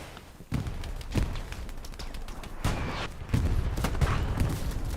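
Grenade blasts and gunfire in a multiplayer shooter video game, several muffled thuds and pops scattered over a few seconds against a continuous rumbling battle background.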